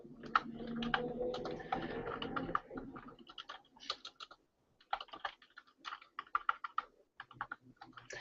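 A computer keyboard typed on steadily, with irregular runs of light, close key clicks separated by brief pauses. A low hum sits under the first few seconds.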